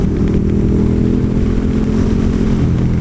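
A KTM Super Duke 1290 motorcycle engine roars steadily and loudly while riding, a continuous low throbbing drone with wind buffeting and no break over a few seconds.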